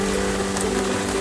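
Rain falls steadily as a dense, even hiss of drops on surfaces, with a low steady hum underneath. The sound is close and constant, and no one speaks.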